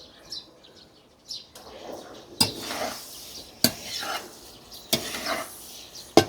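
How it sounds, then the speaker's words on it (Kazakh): Chopped beef intestines fry with meat for kuyrdak, a steady sizzle broken by several sharp scrapes and knocks of a utensil stirring the pan, close and fairly loud. "Енді етпенен бірге қуырылады шегіміз."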